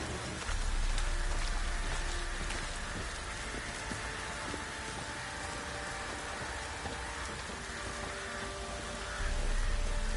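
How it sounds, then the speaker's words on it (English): Light drizzle in The Witcher 3 open world, a steady hiss of rain pattering on surfaces, soft and continuous throughout, with faint low rumbles and no talking. "Oh, it's drizzling."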